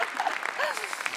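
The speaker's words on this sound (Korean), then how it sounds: "그렇게 공감하시는 분들 다시 한번 박수로 한번 응원해 볼까요?" Applause from an audience at a storytelling talk, a brief dense patter of clapping with voices faintly mixed in.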